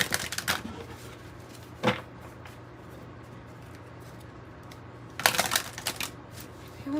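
A deck of cards is shuffled in a quiet room, with a few quick riffling bursts near the start, a single sharp flutter, then a longer run of shuffling near the end.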